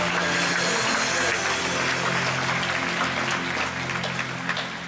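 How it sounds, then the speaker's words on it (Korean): A congregation at a Friday night church service applauds, a dense, steady wash of clapping that holds strong and then slowly tapers off. "영광의 박수 올려드립니다."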